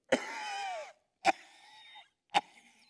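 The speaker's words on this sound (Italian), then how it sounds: "arriva tosse" Three sharp coughs spaced about a second apart, each followed by a wheezy, rasping tail that fades out.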